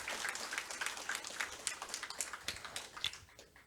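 Scattered, faint applause from an audience at a public hearing in Yangju on creating a special self-governing province, individual claps audible as a loose, uneven patter rather than a full roar.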